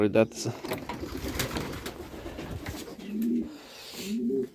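Pigeons coo in a village dovecote, their low throaty calls rising near the end, under someone speaking.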